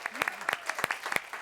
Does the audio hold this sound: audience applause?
yes